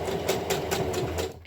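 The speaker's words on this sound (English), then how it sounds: "You want to sew all the way down" Sewing machine stitching elastic onto a cloth face mask, running in a steady rapid rhythm of repeated needle strokes, close and moderately loud, then stopping at the end.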